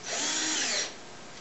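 A power drill drives a screw into a wooden board in one short, loud, whirring run that stops abruptly, leaving a quieter hum behind.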